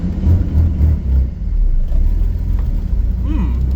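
A 1995 Ford Ranger engine with a leaking exhaust runs after sitting on a battery charger, giving a steady, loud low rumble with uneven puffing throb close by.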